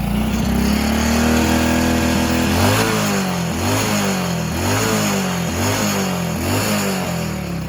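A 2000 Suzuki Supra X motorcycle engine, cold after sitting unused for days, idles close by and is revved repeatedly in a steady rhythm, each blip rising and falling over a constant throaty putter.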